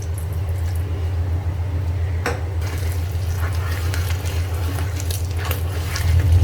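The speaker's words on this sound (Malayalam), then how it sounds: "ഇപ്പം മിക്സ് ചെയ്യുമ്പോൾ ഇതേപോലെ ഒരേ ഡയറക്ഷനിൽ മിക്സ് ചെയ്തെടുക്കുക" Wheat cake batter with milk being mixed in a bowl, a steady wet churning and squishing with a brief clink from the utensil, nearby and without speech.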